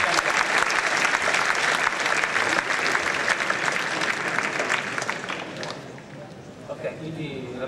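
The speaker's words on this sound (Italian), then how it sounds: "Facciamo un applauso." An audience bursts into loud, dense clapping that holds steady for several seconds, then thins and fades toward the end as a few scattered claps linger and faint voices murmur.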